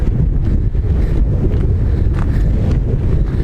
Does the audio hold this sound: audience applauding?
no